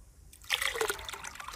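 Water poured from a container into a 300 g fungicide powder to mix an onion crop spray, a brief close splash and trickle after a quiet start, with no talking.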